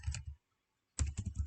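Keystrokes on a computer keyboard as a test case name is typed, a quick burst of clicks, a pause of about half a second, then another rapid run of taps, close and clear with no talking.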